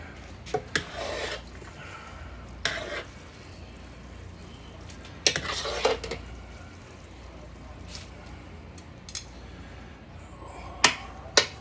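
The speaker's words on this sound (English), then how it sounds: "And now we stir. You're gonna stir it until it's all one color." A spoon stirs jambalaya in a pot in short scraping bursts with quiet pauses between them, close and intermittent.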